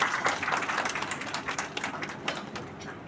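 An audience at an international academic seminar on NEP 2020 at BBAU Lucknow applauds to welcome a guest speaker, a moderate, continuous patter of many hands clapping that slowly tapers off.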